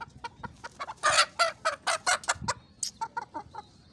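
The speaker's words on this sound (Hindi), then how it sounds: "असील मुर्गी है बेहतरीन।" Aseel hen clucking close by at home, a quick series of sharp, rhythmic clucks and squawks with a brief higher call near the end, no talking.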